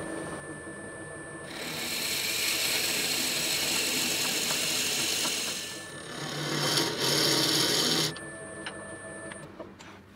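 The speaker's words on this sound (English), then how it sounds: "I decided to drill a hole in this piece of soft pine." A drill bores a hole through a piece of soft pine, giving a steady grinding whine that runs for several seconds, pauses briefly, then surges again before cutting off, with no talk.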